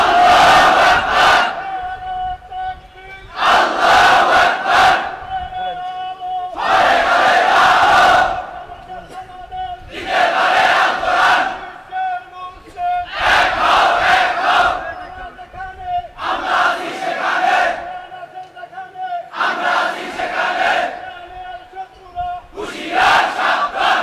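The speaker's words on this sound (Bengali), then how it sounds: "এত আস্তে আপনাদের স্লোগান, হা একটু জোরে স্লোগান দেন তো দেখি।" A large crowd at a religious gathering chants slogans loudly in unison, eight or nine rhythmic shouted bursts separated by short pauses, forceful and close.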